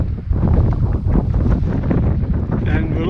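Strong wind buffets the microphone on an exposed hillside in the Galloway Forest Park near Curleywee, a loud, continuous low roar with gusting swells throughout.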